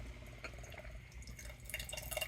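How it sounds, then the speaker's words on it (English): Decades-old canned beer trickles out of a hole punched in the can bottom, a faint, close dribbling and dripping of liquid with soft irregular splashes. "There we go, it's pouring out a little better now."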